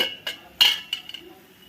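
A metal lid lifted off a pan of katla fish curry, giving a few sharp clinks and a bright metallic ring, with two louder knocks and then quiet.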